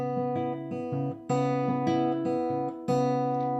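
Acoustic guitar played fingerstyle, a steady picked pattern of bass notes and ringing higher strings repeating in a gentle rhythm.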